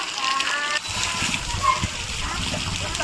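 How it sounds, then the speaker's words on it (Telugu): Heavy rain pours and splashes steadily close by at a village home during the paddy season, with voices heard faintly underneath the wash of water. "వాన ఇప్పుడు పడుతుంది."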